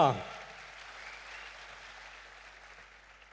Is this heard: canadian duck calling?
no